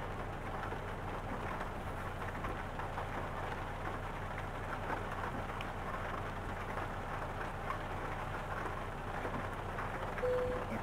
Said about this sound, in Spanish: Ya empezó a llover.